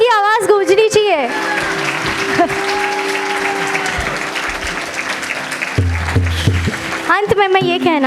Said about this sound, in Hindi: तालियों की आवाज गूंजनी चाहिए।